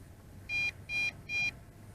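Three evenly spaced electronic warning beeps from a JJRC X8 Cetus drone transmitter, each a short high-pitched tone, sound close and clear over a quiet background.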